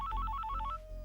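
Phone ringing in a 2005 Hindi film, a quick repeating two-tone electronic trill that is fairly faint and stops after under a second, with no talk.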